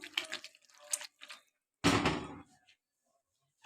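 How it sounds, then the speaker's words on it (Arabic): A pot of mahshi, stuffed vegetables, is shaken so the water drains out the bottom. Short bursts of trickling and sloshing come first, then one louder rush of pouring water, then quiet. "لازم المحشي ياخد هزه كده اهو عشان الميه كلها تنزل في الارض من تحت"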